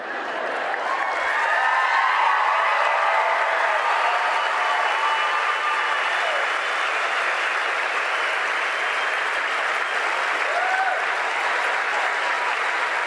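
Steady, dense audience applause at a leadership summit, loud and sustained without a break across the whole stretch, many hands clapping together in a large room.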